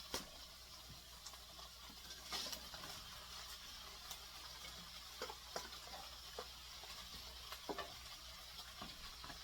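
Carrots tumbling into a pan of pork and beans stir fry, sizzling steadily close by with a bright, hissing fry and a few sharp crackles and clacks of stirring.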